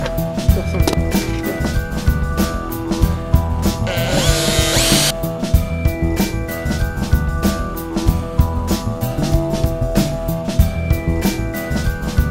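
A 120 mm hole saw cuts through plexiglass sheet, giving a steady loud drilling whine with rhythmic rattling and pulsing across the whole stretch and a brief harsh grinding burst midway.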